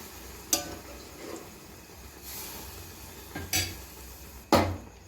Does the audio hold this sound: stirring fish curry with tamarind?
yes